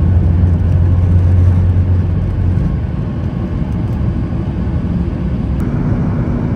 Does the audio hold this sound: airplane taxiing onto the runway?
yes